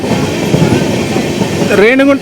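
The Tirupati Express running through Tiruchanur station, a loud continuous rumble with rhythmic clatter of wheels on rails, ending in a rising metallic wheel squeal.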